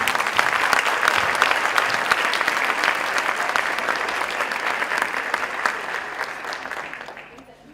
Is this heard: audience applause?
yes